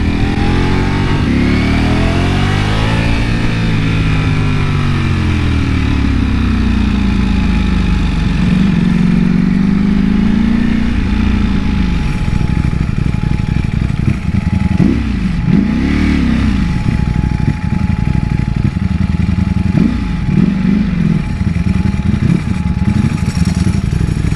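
Ducati Panigale V4 SP motorcycle engine revving loudly and steadily throughout, with rising and falling pitch sweeps as the throttle is blipped, no talking over it.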